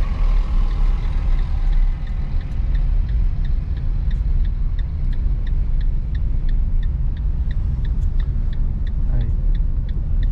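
A car engine drones and rumbles continuously inside the cabin as the driver downshifts and signals for a left turn, with a faint rhythmic turn-signal ticking throughout and a brief dip in engine tone.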